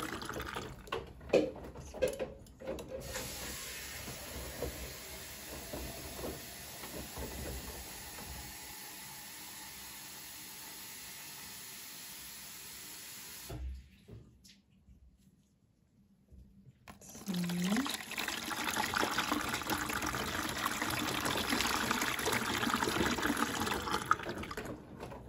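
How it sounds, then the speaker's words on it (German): Hot water runs to wash very dirty laundry and a heavily soiled jacket, a steady rushing flow that stops briefly partway through, then returns louder and fuller, with no voices. "ich nehme halt immer ein heißes Wasser, dass das auch gut runtergeht und sich gut auflöst"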